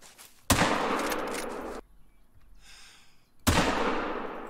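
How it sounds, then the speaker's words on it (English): A 45-70 Coachmate rifle fires twice while hunting in Call of the Wild, two sharp, loud shots about three seconds apart, each followed by a long fading rumble, with near-silence between. "We went for a shot and definitely hit him."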